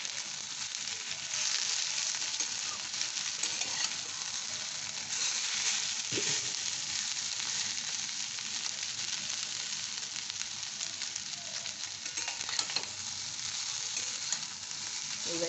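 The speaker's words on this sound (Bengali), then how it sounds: "এবার মাছের সাথে এটা কষা হবে, একটু কম আঁচ করে।" Small fish fry over low heat in a pan, giving a steady, dense sizzle with occasional scraping from stirring. No one speaks.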